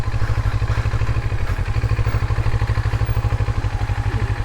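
A CFMoto NK400 motorcycle engine runs with throttle applied, a steady, loud pulsing drone with dense rhythmic firing and faint mechanical clatter, close to the listener throughout.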